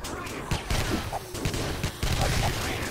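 Rifle gunfire in the video game 7 Days to Die, a string of loud close shots fired in quick irregular bursts with brief gaps between them.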